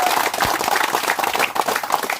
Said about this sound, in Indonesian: tepuk tangan Bang Aliudin,